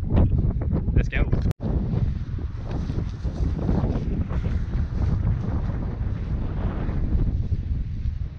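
Strong wind at a lake shore buffets the microphone in a constant low rumble, gusting roughly over open water, with no voices heard.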